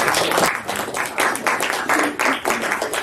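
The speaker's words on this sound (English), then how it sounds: "let's give them a round of applause" Audience gives a round of applause at a Christian fellowship lecture on tradition, with rhythmic bursts of group clapping that swell and dip in pulses, fairly loud and continuous.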